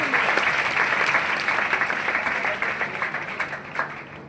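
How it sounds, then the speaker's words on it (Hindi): A crowd gives loud, sustained applause during a motivational speech event, dense clapping that thins slightly toward the end as individual claps stand out. "मैं चाहूंगी अपने फ्रेंड के लिए जोरदार ताली होनी चाहिए"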